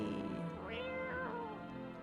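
A cat meows in the horror video game No, I'm Not a Human, with one rising-falling call and a second shorter one, clear and close over a steady ambient game hum.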